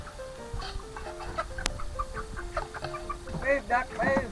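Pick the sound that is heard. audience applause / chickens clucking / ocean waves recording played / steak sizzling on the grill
chickens clucking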